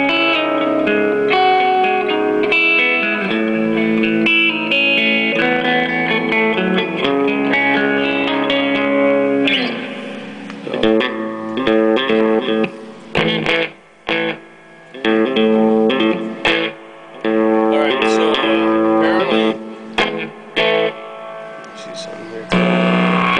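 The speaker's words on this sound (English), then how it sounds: "here's the reverb" Guitar played through a Marshall JCM800 4210 amp with reverb on: sustained, distorted chords ring out loudly, then give way to choppy bursts and short pauses where the reverb tail hangs in the air.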